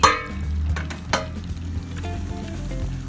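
Ghee from onions fried golden brown is poured into chicken masala and sizzles loudly at first, settling into a steady crackling fry with light stirring, close up and without talk.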